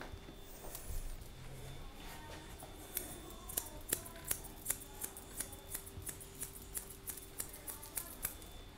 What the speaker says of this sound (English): I've swapped to curved scissors now to come around to make this a little more curved than straight.